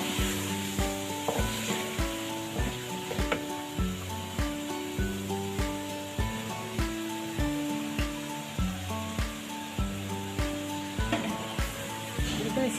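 Chopped eggplant is stirred into sizzling masala in a pan, with a steady frying hiss and repeated scraping, clinking strokes of a spoon at a brisk, even rhythm, close and continuous.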